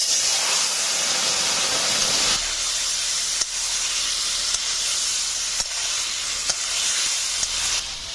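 Boiled hog plums and their cooking water are poured into hot oil for a hog plum pickle, setting off a loud, continuous sizzle and steam hiss that eases slightly partway through, with small ticks and clinks.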